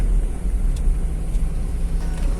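A manual car's engine hums low and steady from inside the cabin as the vehicle slows under braking with the clutch pressed, a continuous rumble with no voices.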